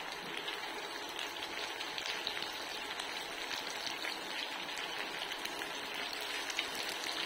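Okra (bhindi) masala cooks over a medium gas flame while being stirred in a pan, giving a soft, even hiss like light rain that continues steadily throughout at low volume.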